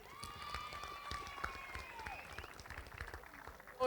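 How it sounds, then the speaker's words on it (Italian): Applause from an audience at an outdoor Mediterranean music and culture event, a steady wash of clapping with a faint voice and a sustained tone beneath, fairly quiet. "facciamo un applauso a loro!"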